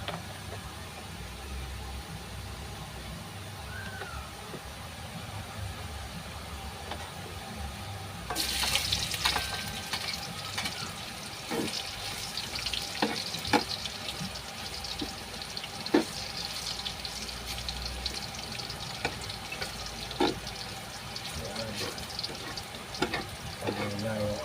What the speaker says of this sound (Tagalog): Nagigisa na ako ng sibuyas at bawang.